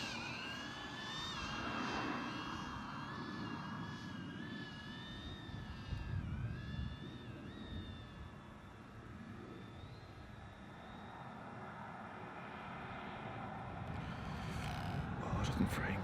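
A DJI Avata drone flies in sport mode in winter at -2 degrees, giving a steady high whine that bends in pitch, with a broad rushing wind-like noise underneath throughout.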